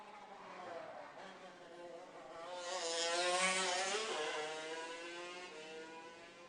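A race car at a winter shootout race downshifts into turn 4: a faint, distant engine note drops, then swells louder and fades again.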